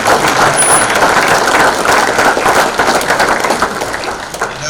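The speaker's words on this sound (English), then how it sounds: "let's have a round of applause for the panel" An audience applauds a farm-policy panel at a 2019 Ohio no-till conference, with loud, steady clapping from a full room that holds throughout, then eases slightly near the end.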